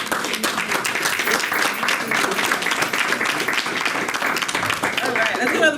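Audience applause at a United Black Contractor Black History celebration in the Dock Bookshop: dense, steady clapping fills the room from start to finish, with voices talking and calling out over it.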